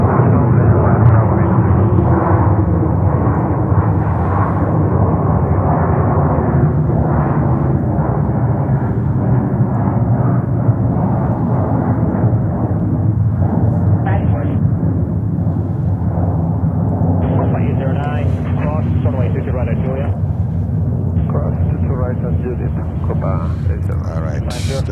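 At JFK airport, an airplane takes off with a powerful, sustained jet roar that is loud and steady, then slowly fades. Voices and radio chatter are heard over it.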